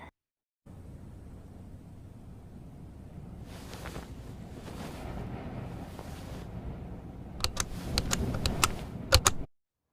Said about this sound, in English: Get on the typewriter.